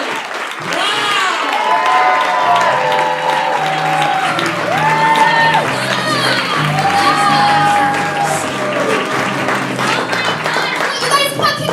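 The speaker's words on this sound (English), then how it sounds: "So I want that clap to keep going right now." A live audience at a holiday comedy show claps and cheers steadily as a comedian is brought on stage, with whoops and shouts rising over sustained applause and a loud voice calling out above the crowd.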